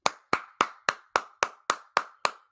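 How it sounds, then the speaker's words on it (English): Ten sharp hand claps in a steady, even rhythm, close and loud, with nothing else heard around them. "Oh, clap it."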